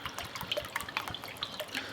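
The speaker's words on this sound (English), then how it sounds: "I'm going to add 1 cup of vinegar" White vinegar poured into a salad, quick liquid splashes and drips in an uneven patter, close but fairly quiet, with no voices.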